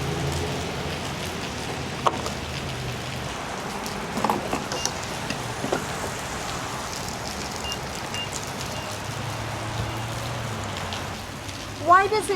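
Heavy rain pours steadily onto surfaces, a dense close patter with scattered louder drops. A vehicle sits close by, and faint voices come through near the end.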